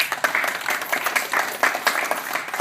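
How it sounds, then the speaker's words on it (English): An audience applauds for seniors at an indoor gathering, a sustained patter of many hands clapping at moderate distance, steady and uneven in texture without voices rising above it. "I just want to give a round of applause to our seniors who are here today."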